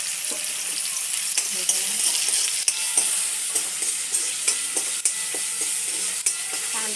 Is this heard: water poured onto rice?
no